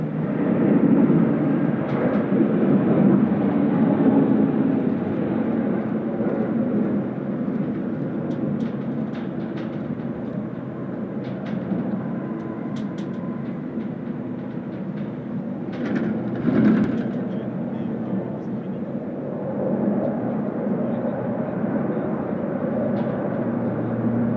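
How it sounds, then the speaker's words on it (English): A Qantas Link Embraer airliner rumbles at Sydney Airport during high winds, a steady distant jet roar with wind buffeting, holding broadly level throughout with a few brief sharper noises. "Nice to see the Qantas Link Embraer in the Qantas Link colours"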